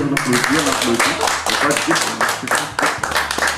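A group claps together after a testimonial at a year-end art-therapy workshop in Madagascar, a loud, dense, steady patter of hands with voices mixed in underneath.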